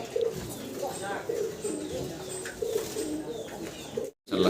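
Pigeons at a dealer's pigeon sale, including a black pair, coo and call repeatedly, close and moderately loud, with a short gap near the end.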